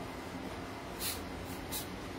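Silicone oil sprayed from a can onto the muzzle of a Glock 34 pistol, heard as two short, soft hissing bursts close by in a quiet room.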